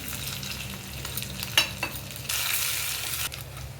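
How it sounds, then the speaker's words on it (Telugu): Tempering spices for a spinach dal crackle and sizzle in hot oil, a loud close fry with a few sharp pops and stirring scrapes, rising to a denser sizzle partway through. "ఆయిల్ హీట్ ఎక్కాక మనం పోపు వేసుకుందామండి."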